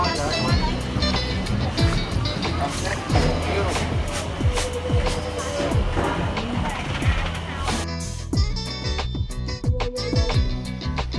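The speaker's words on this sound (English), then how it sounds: "We are now on a speedboat from Phnom Penh to Siem Reap" Speedboat running between Phnom Penh and Siem Reap in Cambodia, a loud continuous rush of engine, wind and water with thumping slaps against the hull throughout, turning more broken near the end, with a voice talking over it.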